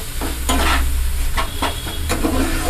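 Green tomato fries with spices over low heat in a pan, a steady loud sizzle broken by several scraping stirs of a spatula, with no voices.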